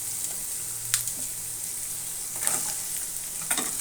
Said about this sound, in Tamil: வெங்காயம் நல்லா வதக்கிக்கலாம்.